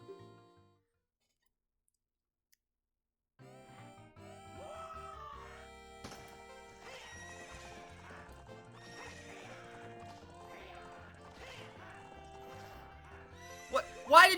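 A horse in Zelda: Ocarina of Time neighs and gallops with steady clip-clop hoofbeats over game music, closing with a sharp, loud whinny at the end.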